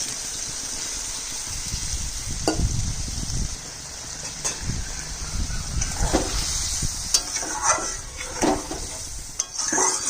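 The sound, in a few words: water poured into frying soybean dish, sizzling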